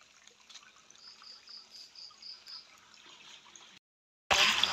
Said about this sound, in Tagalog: Yan yung water spring. So, dyan galing ang tubig.